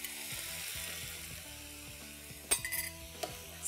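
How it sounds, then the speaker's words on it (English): A quiet pan of cooking sauce with ketchup, then milk mixed with corn flour poured in, sizzling softly, with a few sharp utensil clinks and scrapes against the pan. "And now I'm going to add the milk mixed with corn flour."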